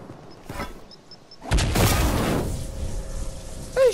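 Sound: gunfire from the Fortnite video game

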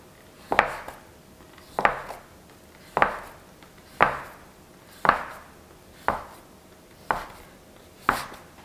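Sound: knife cutting a log of mooncake dough into equal pieces

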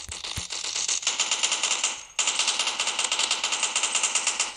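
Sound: M4 rifle gunfire in a video game

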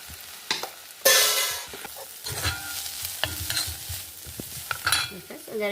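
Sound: potatoes and fenugreek leaves frying and being stirred in pan

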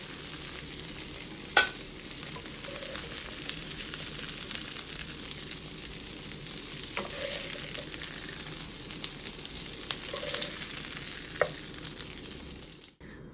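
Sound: meatballs frying in a pan

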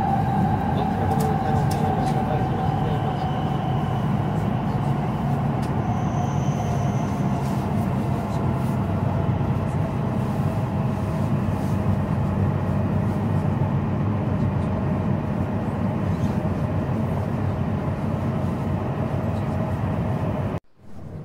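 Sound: high-pitched train brakes squealing in tunnel

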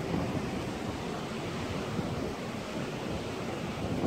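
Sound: strong wind by the sea

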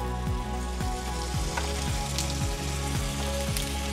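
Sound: cumin and spices frying in a pan for pav bhaji

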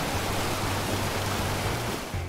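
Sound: Three Sisters waterfall cascading from a plateau

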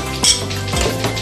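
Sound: stirring fried rice (sinangag) in a pan

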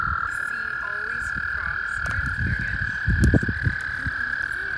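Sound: frogs croaking on a nature trail

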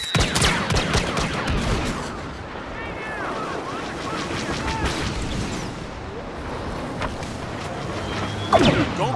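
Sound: blaster fire in video game Star Wars Battlefront

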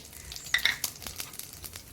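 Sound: whole cumin and bay leaves sizzling in hot oil

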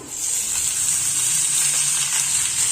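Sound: leafy greens cooking in a pan

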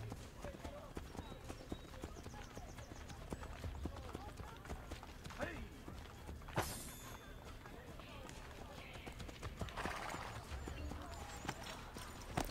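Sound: horse hooves following the player in Assassin's Creed: Brotherhood video game

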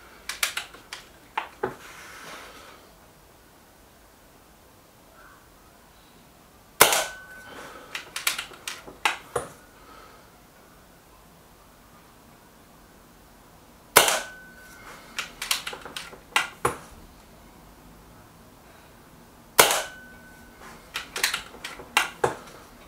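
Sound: air rifle pellet shots, Kral Puncher Pro 500 vs Weihrauch HW 110

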